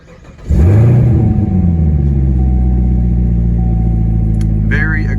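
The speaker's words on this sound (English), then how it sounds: "Very aggressive noise from that supercharged V8." A supercharged V8 in a 2019 Corvette C7 ZR1 cranks and fires, flaring to a loud, close roar before settling into a deep, steady rumbling idle that runs without a break.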